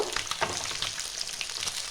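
Khatla fish pieces frying in hot oil, a dense, close, continuous crackling sizzle with rapid popping spatter throughout.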